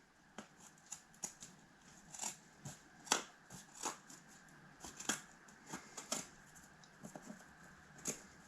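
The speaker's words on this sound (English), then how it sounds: "We'll use the scissors and just kind of go over the plastic barb." Scissors snip and trim the plastic barb of a BMW shift boot, a quiet series of short, close, crisp cuts in an irregular rhythm, with no talk over them.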